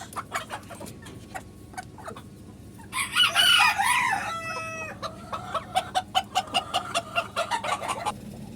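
Fancy Polish cap chickens on a farm in Akkelpur, Joypurhat, Bangladesh: a rooster crows loudly in the middle, surrounded by a rapid series of close, rhythmic clucks and calls.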